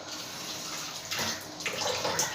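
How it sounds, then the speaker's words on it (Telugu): Water poured from a cup into a pan holding sugar for gulab jamun syrup, a steady close splashing and trickling that swells in short bursts, with no talk. "కప్పు సగం వాటర్ వేసానండి"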